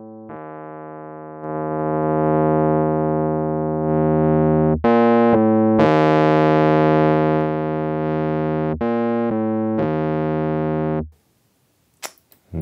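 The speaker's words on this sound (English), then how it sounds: "now let's just cycle through these different types of distortion with the Trap Drive and hear what we can get." An electric piano plays sustained chords through the Trap Drive distortion plugin, its tone shifting in several stages as different distortion types are cycled. Loud and continuous, it cuts off near the end, followed by a brief click.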